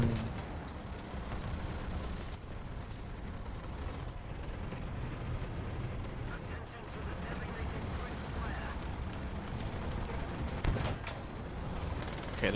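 Mortar fire in a tank battle game, heard as steady rumbling engine noise with scattered sharp shot reports and booms spread over several seconds at moderate loudness, without speech.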